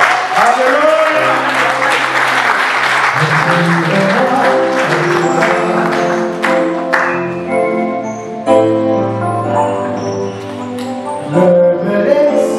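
A church congregation at an evangelical ministers' consecration ceremony claps and cheers in acclaim of Jesus, steady loud applause mixed with voices and music throughout.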